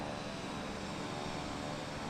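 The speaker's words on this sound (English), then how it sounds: "I must be hearing the Vision jet." A Vision jet flying close by in Microsoft Flight Simulator 2024, a steady broadband aircraft engine roar that holds at constant loudness throughout, with no talking over it.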